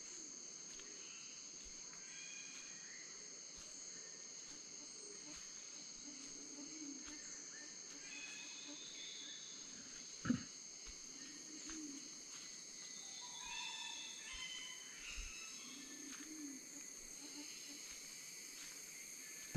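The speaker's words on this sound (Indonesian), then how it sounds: "mendengarkan suara burung" Birds call faintly and at a distance in the forest of Bogani Nani Wartabone National Park, Gorontalo, with soft coos and insect chirring over a quiet, steady background and one brief sharp knock.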